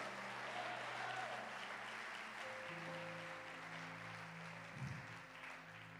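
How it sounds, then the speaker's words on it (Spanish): Church congregation applauding at an evangelical service, a steady, fairly faint wash of clapping sustained throughout with low musical tones from an instrument underneath. "Dale un aplauso a Dios."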